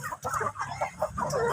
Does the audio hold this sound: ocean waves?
no